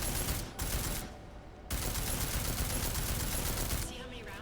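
Rapid gunfire rattles against armor in the video game Deus Ex: Mankind Divided, in dense bursts broken by brief pauses, fairly faint and distant-sounding.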